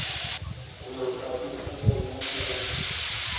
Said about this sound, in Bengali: এই পেঁপেটা ভেজে নেব,